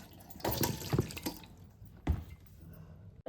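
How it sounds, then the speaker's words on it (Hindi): Water drains from mango pickle pieces resting in a strainer, making a soft, close splashing and trickling with a couple of louder pours, then fading to light dripping; nobody talks. "ये जो अचार के टुकड़े हैं इनको एक छलनी में छान देंगे, और जिससे कि जो पानी निकला हुआ है इसमें ये अलग हो जाएगा।"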